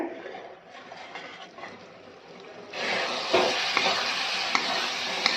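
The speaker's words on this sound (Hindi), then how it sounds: "इसको उलट पलट कर देंगे ताकि हमारी कैरी अच्छी तरह से पक जाए।" Raw mango sabzi sizzles in a pan on a medium-to-low flame as a spoon stirs and turns it; quiet frying swells into a louder, steady sizzle with a few sharp scrapes.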